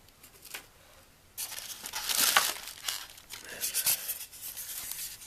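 Plastic bag and packaging crinkling while unboxing a Husky 800 lumen LED portable worklight packed in styrofoam, soft rustles at first, then louder bursts of close crinkling and rubbing that continue in uneven handling bursts.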